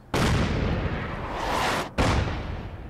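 Two heavy artillery blasts, one right after the other: a loud booming report with a long rolling tail, then a second sharp impact that fades out, with no voices.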